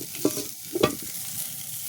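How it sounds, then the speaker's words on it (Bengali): A wet gourd leaf meets a hot pan over a village wood fire, giving a quiet sizzle with a couple of sharp crackling bursts and scraping touches. "লাউ পাতায় জল রয়েছে তাই চটচর করছে"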